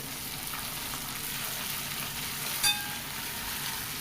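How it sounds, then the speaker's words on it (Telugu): Ginger garlic paste frying with onions in a pan for paneer biryani, giving a steady, even sizzle close by with one brief sharp crackle partway through, no voices. "ఒక టేబుల్ స్పూన్ అల్లం వెల్లుల్లి పేస్ట్ వేసి పచ్చివాసన పోయేంత వరకు ఫ్రై చేసుకోండి"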